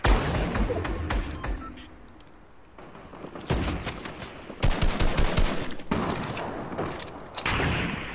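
Rapid gunfire bursts from Fortnite squad combat crackle in clustered volleys, with loud sustained automatic fire, brief pauses and heavier thuds scattered through the stretch.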